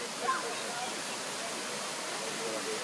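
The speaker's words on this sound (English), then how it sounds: "at the river water hole where the waterfall is" A waterfall at a river swimming hole pours with a steady, even hiss of rushing water, a continuous broadband wash that holds its level throughout, with a brief voice near the start.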